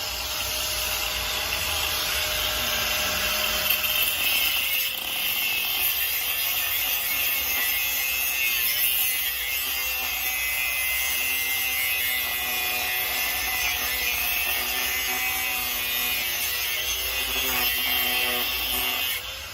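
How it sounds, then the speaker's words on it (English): Grinder wheel cutting steadily, a continuous loud whine and rough grinding hum lasting throughout with no pauses or voices. "I'm just gonna go ahead and save you probably 20 minutes of watching a grinder wheel spin."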